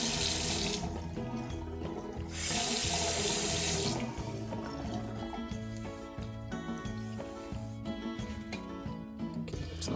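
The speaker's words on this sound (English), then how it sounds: "and the faucet's working." Water runs steadily from a newly replaced bathroom faucet into the sink, a close, continuous splashing stream that swells louder for a couple of seconds before settling.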